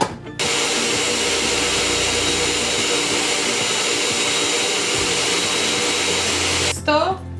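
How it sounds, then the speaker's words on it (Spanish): A countertop blender whirs at a steady, loud high pitch as it blends a maca and oat shake, starting abruptly and running for about six seconds before cutting off with a brief clatter. "vamos a ir a licuar esta rica y buena receta"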